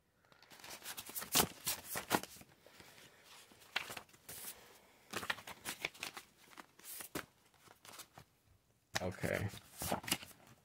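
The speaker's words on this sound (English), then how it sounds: "These cards are hard to shuffle, y'all." Tarot cards are shuffled in quick riffling bursts, crisp and close, with pauses between rounds and a few soft handling sounds.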